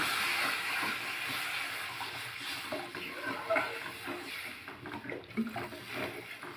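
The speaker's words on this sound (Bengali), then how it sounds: "এখন যতটা জল প্রয়োজন আমরা ততটাই জল দিয়ে নেব" Water poured into a pan of katla fish kalia gravy gives a steady, fairly loud splashing hiss that runs through the whole stretch and gets a bit more broken toward the end, with no talking.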